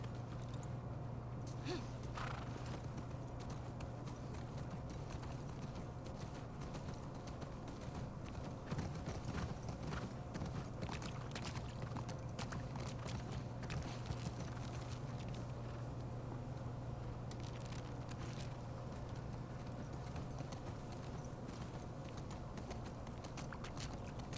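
Horse hooves clip-clop steadily in a video game, a soft repeating walk heard over a constant low droning background hum throughout.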